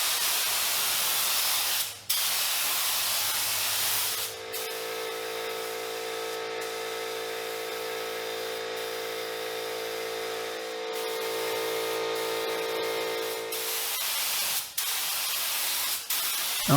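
Spray gun laying down a second solid coat of epoxy primer on a 1985 Pontiac Fiero 2M4, a steady continuous hiss with a tonal whine held for about ten seconds, surrounded by broadband workshop noise.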